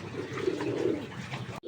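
Pigeons coo steadily in a breeding cage, a continuous close murmuring call filling the short moment with no voices.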